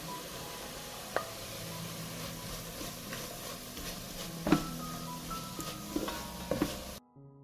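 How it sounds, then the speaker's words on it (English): Grated carrot fries in a pan, a soft, steady sizzle broken by occasional clicks and scrapes from stirring, ending abruptly. "I add carrots and fry everything together"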